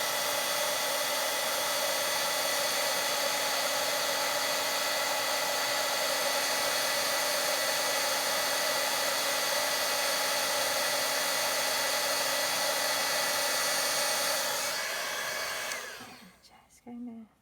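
An embossing heat tool blowing continuously for papercraft stamping, a loud, steady whirring hiss with a faint hum that cuts off near the end, followed by a few quiet handling sounds.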